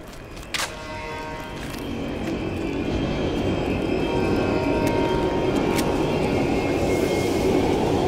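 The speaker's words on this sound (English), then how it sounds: "Trains passing." A train rolls past in the Black Ops Cold War video game, its steady rumble building from a low start into a broad, constant roar that keeps going to the end, with a brief clack near the beginning.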